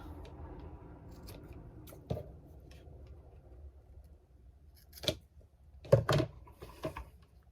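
Scissors snip off the excess cord from a knot on a craft door hanger, a few quiet, crisp cuts near the end after soft handling noises.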